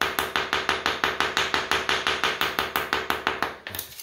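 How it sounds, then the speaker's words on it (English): A ball hammer breaks up floor tile, striking about fifteen times in a fast, steady rhythm. The impacts are sharp, close and evenly spaced, and no one talks. "Sometimes if you've got a ball hammer,"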